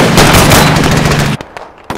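Gunfire from tan toy army men soldiers in a battle against Lego figures: loud, dense, rapid machine-gun bursts that cut off abruptly, leaving a couple of stray shots in near silence.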